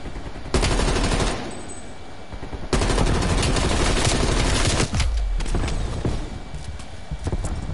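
An XM4 rifle fires in Black Ops Cold War in several loud, rapid bursts at close range, separated by brief quieter stretches.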